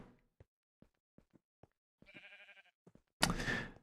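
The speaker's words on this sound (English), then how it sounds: "There's a sheep." Sheep in the video game Minecraft giving a short bleat among soft, sparse clicks and taps, followed by a louder burst of blocky digging noise near the end.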